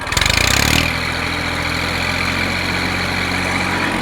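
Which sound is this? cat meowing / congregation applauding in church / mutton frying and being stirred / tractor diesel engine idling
tractor diesel engine idling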